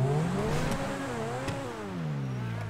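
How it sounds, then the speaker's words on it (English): Supercar engine in a GTA game revving with a smooth rising and falling whine, close and steady, pitch dipping and climbing again over a few seconds. "Ooh, we all have our own supercars"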